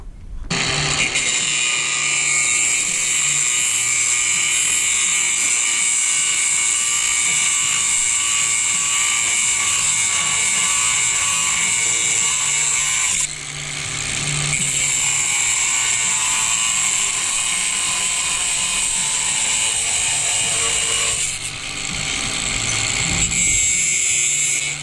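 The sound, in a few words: bolting a beam together with tools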